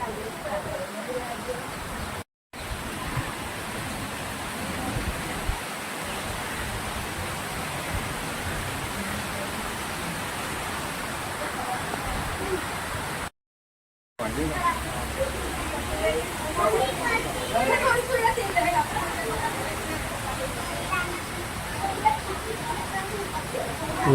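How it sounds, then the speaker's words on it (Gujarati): Heavy rain pours steadily at a hilltop Meldi Maa temple in Kadi, a dense broadband hiss filling the whole stretch with brief dropouts, without any talking over it. "જોરદાર વરસાદ છે."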